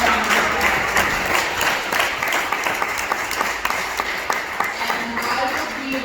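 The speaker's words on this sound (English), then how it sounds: "Please give a warm round of applause" An audience at a community political gathering applauds for the owner of the host establishment, with sustained, fairly loud clapping, a few sharper individual claps standing out, and faint crowd murmur underneath.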